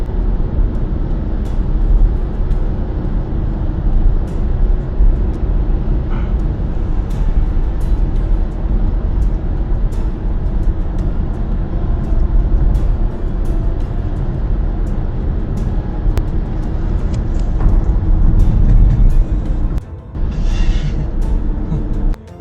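Steady, loud road rumble and engine drone inside a car on a quiet road in Thailand at night, recorded by a dashcam, continuous throughout with only small shifts.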